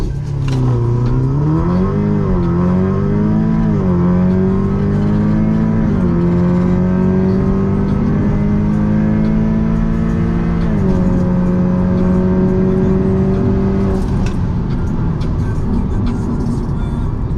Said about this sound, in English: Definitely starting to be able to hear the turbo a lot more